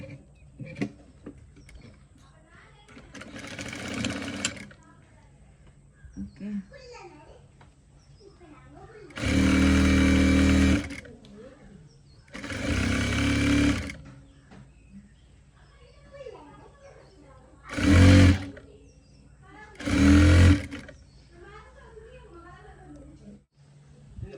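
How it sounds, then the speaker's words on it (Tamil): A sewing machine stitches the centre seam of gown fabric in five short, loud bursts of rapid whirring, with a person talking quietly in the pauses between runs. "நான் அந்த சென்டரை வந்து தைப்பேன்"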